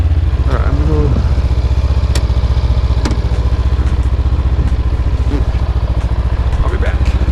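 Honda CB500F motorcycle engine running steadily and loud at close range, a continuous low rumble throughout with brief clicks and a voice speaking faintly over it.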